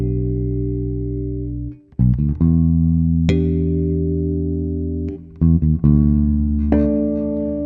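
Bass guitar playing a line with passing notes over four chords, sustained low notes with a few quick moving notes between them, loud and close with no voice.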